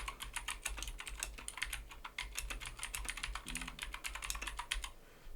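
Rapid, uneven clicking of keys on a computer keyboard as an update command is typed into a Linux terminal, close and fairly quiet, alone with no talking.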